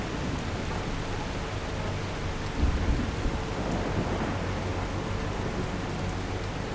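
Thunderstorm in the video game The Last Caretaker, with a dense, constant roar of heavy rain and a low rumble of thunder swelling partway through.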